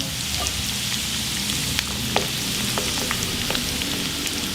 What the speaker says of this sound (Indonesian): Selanjutnya kita goreng bawang merah yang udah diiris tadi ya, sama bawang putihnya.